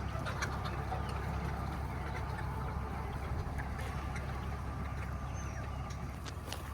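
Chickens cluck quietly and steadily from a large flock of about a thousand birds on outdoor pasture, set against constant low background noise.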